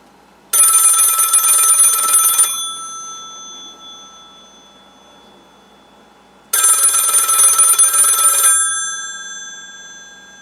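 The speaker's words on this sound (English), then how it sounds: "20 minutes before midnight, the phone rang again." A telephone bell rings in two loud bursts of about two seconds each, separated by a pause, with a faint quiet hum between rings, set in a noir radio drama just before midnight.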